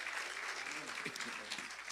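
A church congregation applauds, a continuous wash of clapping with some voices mixed underneath, moderately loud across the whole short stretch.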